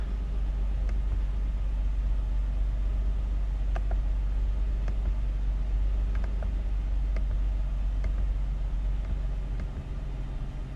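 A Jeep Wrangler engine idles after starting, a loud, steady, low rumble that holds evenly throughout, with no voices over it.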